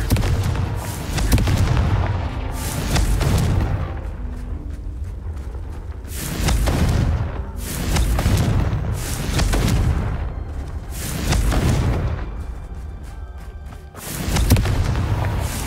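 Repeated Confringo spell blasts in a video game, heavy booming explosions arriving every couple of seconds, each a loud rumbling burst that swells and fades, with no speech.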